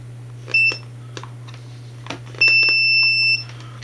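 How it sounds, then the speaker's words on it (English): A multimeter in continuity mode gives a short high beep, then a longer sustained tone of about a second, close and clear over a low steady hum, with a few faint clicks from the probes. "put your multimeter into continuity mode"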